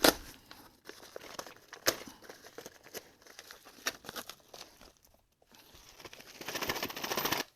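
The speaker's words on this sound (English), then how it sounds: "let's open up this bag, see what's in here" Plastic bag holding model ship kit parts is torn open and crinkled close up, with irregular rustling and tearing bursts throughout and a louder crumpling stretch at the end.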